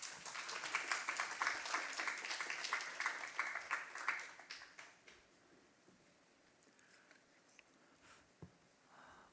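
Congregation applauding at a Korean church Sunday service in Hawaii, a dense burst of clapping for the first five seconds that thins out and fades to quiet with a few stray claps.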